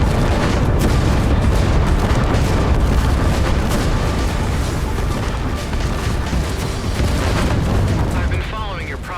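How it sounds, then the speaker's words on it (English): Explosion in the space combat game Everspace 2, a loud sustained rumbling blast with crackling bursts filling the whole stretch, alongside voices. "Explosion imminent."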